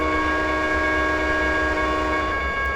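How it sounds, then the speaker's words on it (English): A locomotive horn in the Trainz 2010 railroad simulator game blows a sustained, loud, steady chord over the rumble of a moving freight train, with no talking. "I should be blowing the horn."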